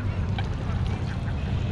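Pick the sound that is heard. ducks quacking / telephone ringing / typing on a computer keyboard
ducks quacking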